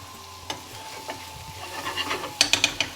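Chicken jalfrezi curry ingredients fry in a pan with a low, steady sizzle, broken by a few soft stirring scrapes and then a burst of bright metallic clinks from a utensil near the end.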